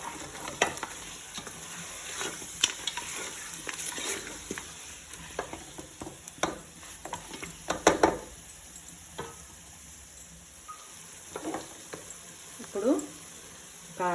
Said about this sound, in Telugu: కొంచెం అల్లం వేస్తున్నా. ఇది కొంచెం ఒక 2 minutes ఫ్రై కానిద్దాం.